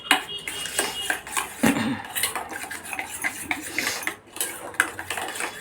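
A spoon stirs spices into yogurt in a bowl, giving repeated clinks and scrapes against the dish in an uneven rhythm, close and fairly loud, with no talking.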